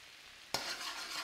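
Chili flakes hitting hot butter in a wok, a sudden close sizzle bursting in after a quiet moment and holding as a steady, bright hiss to the end.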